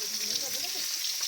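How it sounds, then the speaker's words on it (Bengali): Fish fries in a pan at home with a steady, even sizzle and hiss, while faint talk can be heard in the background. "আর মা এখানে রান্না করছিল, মাছ ভাজছে।"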